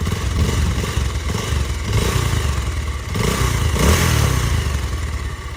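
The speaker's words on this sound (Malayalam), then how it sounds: "വണ്ടി ആ ഷോറൂമിൽ നിന്ന് എടുത്ത പോലുള്ള രീതിയിലുള്ള സൗണ്ട് തന്നെയാണ് ഇപ്പോഴും" A Bajaj Pulsar 220F motorcycle engine idling and revving in short swells, loud and close, with a steady throb underneath.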